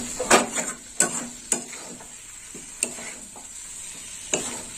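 A utensil stirs elephant foot yam curry gravy in a frying pan, giving sharp scraping knocks every second or so over a steady soft sizzle, close and clear.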